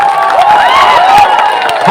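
A large crowd at a Tipra Motha political rally cheers and shouts in a dense, loud, continuous wash of voices and whoops, with clapping mixed in.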